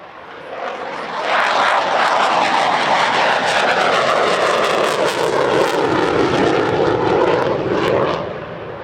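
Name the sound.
Saab JAS-39C Gripen fighter jet flying at airshow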